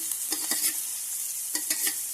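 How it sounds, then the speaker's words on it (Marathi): Tomatoes added to onions already browned in a pan sizzle with a steady, bright hiss, broken by a few soft stirring scrapes and clinks, close and without any talking. "तर आपण त्याच्यात ना टोमॅटो घालून घेऊया"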